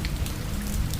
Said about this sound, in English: Only rain for 20 seconds.